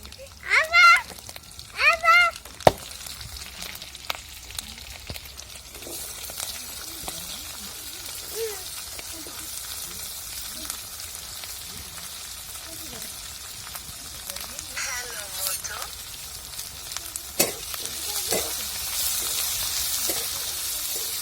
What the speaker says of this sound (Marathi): त्याच्यानंतर आपण मिरच्या कापून घेतली ते मिरच्या टाकायच्या आहे